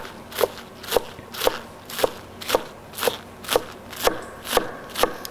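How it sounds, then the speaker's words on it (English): A knife chops fresh green onions on a board in even, steady strokes, about nine crisp cuts at a regular rhythm, close and clear with no talking. "I like to just chop the green part"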